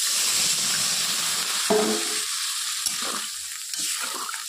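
Broth poured into soybean curry frying in a pan, a steady bright sizzle that briefly bubbles up as the liquid hits, then settles into a continuous hiss with no talking.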